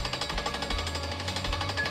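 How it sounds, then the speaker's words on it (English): A drill rig taking soil and groundwater samples at a brownfield site pounds with a rapid, steady hammering rhythm under an engine drone, close and loud. "We have a drill rig here today, and we are taking soil and groundwater samples"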